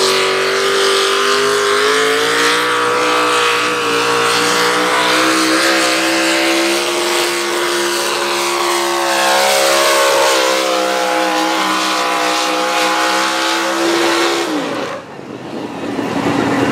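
A Pro Stock drag race car holds a loud, steady high-revving engine note for about fourteen seconds, then the pitch drops sharply as it backs off near the end.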